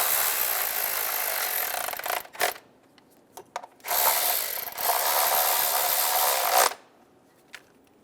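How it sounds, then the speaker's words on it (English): Ratchet wrench snugging coil harness bolts on the valve cover of a 2011-2014 Hyundai Sonata, with two long bursts of rapid clicking broken by short pauses and a few isolated clicks, close and clear. "Snug the bolts down."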